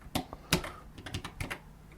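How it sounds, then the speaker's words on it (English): Someone types on a computer keyboard while testing software, with a quick, uneven burst of sharp key clicks, some louder than others. The clicks are close and clear, with no talking. "I was typing the wrong key here."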